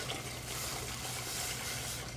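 Water pours steadily into a pot of chicken noodle soup on the stove, a continuous close splashing rush with no pauses.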